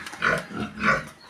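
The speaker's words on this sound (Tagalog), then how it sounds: "Ingay po ng aming piggy, ng aming pong baboy." A pig on a farm gives two short, close grunts about half a second apart, with nothing else heard.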